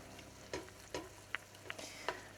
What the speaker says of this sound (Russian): Обжариваем ее с овощами, так из нее уйдет кислинка, и она станет ароматной.